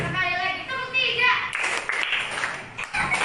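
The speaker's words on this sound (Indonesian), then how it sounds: "Sekali lagi tepuk 3." A classroom of children clapping a counted clap pattern, short bursts of claps mixed with kids' voices and chatter, fairly close and lively.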